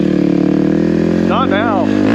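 A Kawasaki KLX300R dirt bike engine fitted with an EJK fuel tuner holds high revs, loud and close. The steady, buzzy drone climbs slightly as a voice speaks briefly over it.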